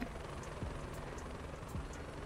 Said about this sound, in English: What's the helicopter doing?